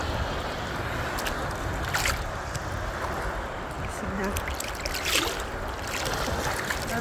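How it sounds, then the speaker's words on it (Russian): Wind and waves on the Baltic Sea shore form a steady, broad rush of noise throughout, with gusts buffeting the microphone and a voice faintly present underneath. "Балтийское море"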